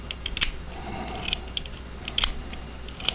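Reate EXO-M gravity knife lock slid back and forth: a series of sharp, crisp metallic clicks and snaps, close and fairly quiet, spaced irregularly over a soft background hiss.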